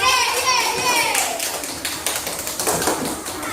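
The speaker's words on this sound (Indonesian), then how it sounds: "Tepuk tangan untuk" Classroom students clap for group 1, a scatter of light, uneven hand claps mixed with children's voices and chatter, growing busier after the first second.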